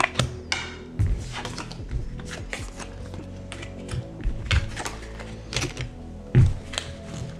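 Magic: The Gathering cards being shuffled during a tabletop Commander game: a quick run of crisp tapping clicks and papery riffles, with a few soft thumps as the deck is squared. Close and fairly quiet, with no speech.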